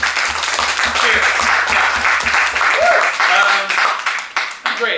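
Audience applause at a New York City music festival show, a dense burst of clapping and cheering that swells, then thins out, with a voice breaking in near the end.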